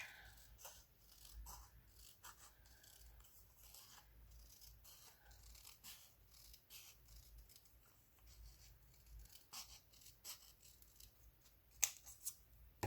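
Scissors trim a small edge off heavy cardstock in a craft project, giving quiet, intermittent snips and paper rustles spread across the span with no talk.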